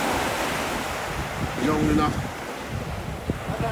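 Steady rush of surf and wind at Gibson Beach on the California coast, a continuous broad roar with a short spoken phrase and a brief tonal whistle partway through.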